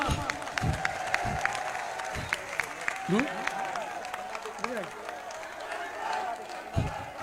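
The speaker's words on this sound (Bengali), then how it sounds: "তাদের সম্মানে আপনাদের কাছে একটি করতালি আমি আশা করছি" An audience at a reception in Char Fasson, Bhola, clapping in a dense, sustained round of applause with scattered louder claps and crowd murmur mixed in.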